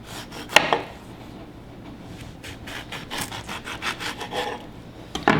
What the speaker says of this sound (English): In one large lemon, and I always cut the knobs off.